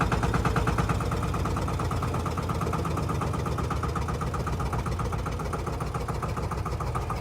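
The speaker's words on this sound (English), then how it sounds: "See how slow I can get it to idle." A Lanz D1266 tractor's small single-cylinder engine with a big flywheel idles very slowly, its steady low chugging pulses close and continuous throughout with no talking.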